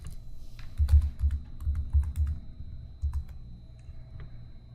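Someone types a camera name on a computer keyboard, giving a steady run of close, soft key clicks in uneven bursts with brief pauses between them, and no talking.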